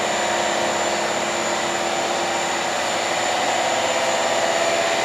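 A Stardex diesel common rail pump test bench with dual motors drones loudly and continuously, a steady mechanical whine with a constant high tone and no pauses.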